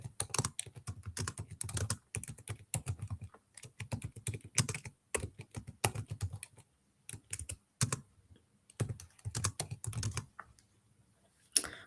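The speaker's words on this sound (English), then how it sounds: "I'm just typing to them." Rapid bursts of keyboard typing with short pauses between runs of keystrokes, close and fairly quiet, no voices.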